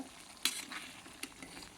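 Spices for a dal khichdi tempering sizzling in hot oil: a faint, close frying hiss with a couple of sharp crackling bursts, no voices.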